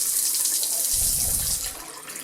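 Water gushes steadily from a tap close by, a constant splashing stream that thins out slightly near the end.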